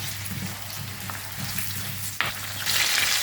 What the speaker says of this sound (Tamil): நல்லா வதங்கட்டும் இது கூட கொஞ்சம் கருவேப்பிலை போட்டுடலாம்